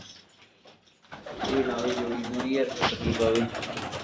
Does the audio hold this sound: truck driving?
no